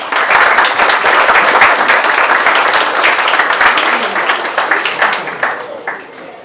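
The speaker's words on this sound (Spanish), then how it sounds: "Les pido un fuerte aplauso para el magistrado" Loud, dense applause from an audience at a law faculty lecture, steady for several seconds before thinning out and fading toward the end.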